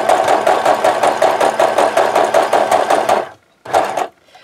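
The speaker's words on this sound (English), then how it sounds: "turn the doll around, and do another row of stitching" A sewing machine stitches a row around the edge of a doll, a close, loud, fast and even mechanical chatter that stops abruptly, then runs for one short final burst.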